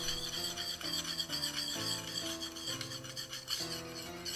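A file rasps over the bottom edge of an axe blade to remove burrs, a steady run of close scraping strokes with continuous gritty texture and slight changes in pitch from stroke to stroke.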